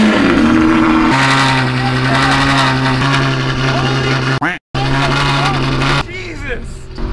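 A Ferrari 812 Superfast fitted with a Ryft titanium exhaust runs loud and close, a high-pitched exotic engine tone holding steady, briefly cutting out, then resuming before tapering, with voices talking over it.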